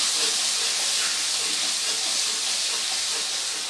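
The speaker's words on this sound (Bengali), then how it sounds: "আদা আর কাঁচা লঙ্কার পেস্টটা খুব ভালো করে তেলের সাথে নেড়ে চেড়ে নেব।" Ginger and green chilli paste sizzles in hot oil in a pan, a steady loud frying hiss that fills the whole stretch with no voices.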